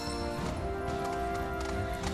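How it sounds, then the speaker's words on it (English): A herd of chocobos from Final Fantasy 7 Rebirth gallops in a steady, horse-like clatter of hooves, continuous for the whole stretch and blended with sustained game music. "A herd of chocobos sound a lot like a herd of horses."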